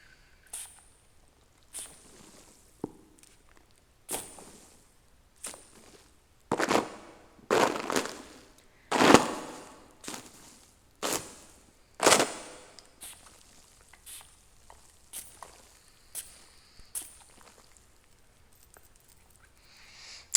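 Perfume bottle pumped in a series of sharp misty spritzes, roughly a dozen separate bursts at irregular intervals, close and crisp with a hissing, rain-like patter, loudest in the middle and fading toward the end.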